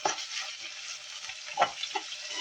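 A spoon stirs lentil curry with spices as it fries in a pan. The scraping and gentle sizzling come through softly and steadily, with a few slightly louder scrapes, and no voices are heard.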